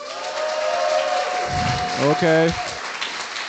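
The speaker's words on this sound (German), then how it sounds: "Applaus." A crowd at a convention prompt battle breaks into applause, a continuous mid-level clapping wash while someone speaks briefly over it.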